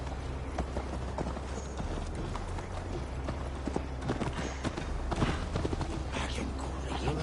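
Horse hooves gallop in a steady clip-clop rhythm while riding through Assassin's Creed Valhalla, close and loud against a continuous low game rumble and ambient music.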